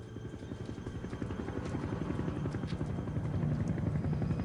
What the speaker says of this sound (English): with the distinctive sound of a helicopter